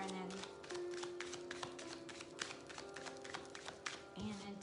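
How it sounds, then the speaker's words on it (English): Tarot cards being shuffled by hand in repeated quick riffling bursts, close and crisp, with a steady tonal hum and a faint voice underneath. "I'm going to shuffle these babies."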